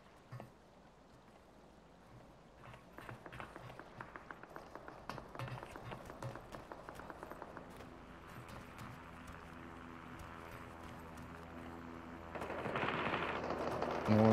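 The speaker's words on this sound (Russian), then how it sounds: "Ну, они там стреляют." Gunfire in the online shooter game Super People comes as faint, rapid bursts of distant automatic shots in the middle stretch, then settles into a quieter steady background with a louder swell near the end.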